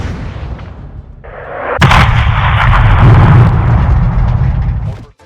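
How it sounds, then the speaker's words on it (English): Heavy 105mm cannon fire support in Call of Duty: Modern Warfare 2, a sharp booming blast after a rising lead-in, followed by a loud, sustained rumbling explosion that fades out after a few seconds. "The 105mm cannon hits,"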